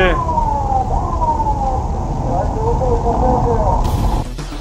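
A police car siren wails, sweeping up and down close by over loud road and engine noise near a highway tollgate at night, steady throughout before cutting out at the end.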